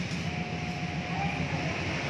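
A fuel-injected motorcycle engine runs at a steady idle nearby, an even, continuous drone with a faint whine and no change in pace.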